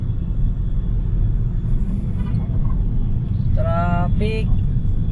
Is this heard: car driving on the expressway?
yes